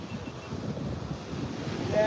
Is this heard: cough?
no